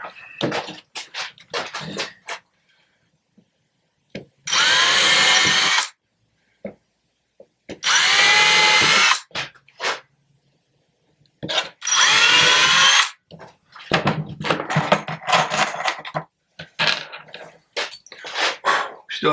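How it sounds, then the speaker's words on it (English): A power drill with a drill bit runs in three loud, close bursts of a few seconds each, separated by quieter handling clatter, knocks and brief movements. "Make sure your drill bit's in straight."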